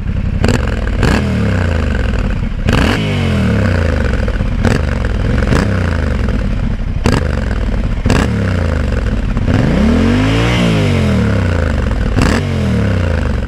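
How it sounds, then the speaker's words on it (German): Yamaha Ténéré 700 crossplane twin on its stock exhaust, revved in repeated sharp blips from idle, each burst rising and falling with a gruff, uneven throb, close and loud with no talking. "Das ist ein Crossplane-Zweizylinder."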